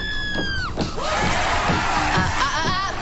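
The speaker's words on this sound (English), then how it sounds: "Can you stop screaming?" Several people screaming and shouting together in a scripted TV comedy scene, with high wavering cries that rise and fall, loud and close, mixed with agitated voices.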